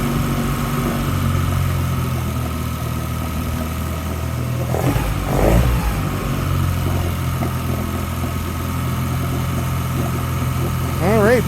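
A 2006 Mercury 15 HP outboard with a freshly cleaned carburetor idles steadily with the choke in, a constant low drone holding through the whole stretch and a brief shift in the middle.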